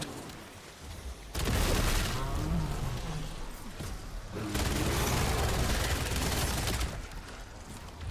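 AK rifle fire in Call of Duty: Black Ops zombies mode, two sustained loud bursts of rapid automatic shooting separated by a brief lull, with game effects mixed underneath.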